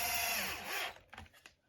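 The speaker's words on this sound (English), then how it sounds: "This drill does have a clutch on it" A cordless drill with a clutch drives countersunk 4mm screws into a Traxxas LCG RC drag car chassis, a loud whirring burst that winds down and stops, followed by a few faint clicks and taps.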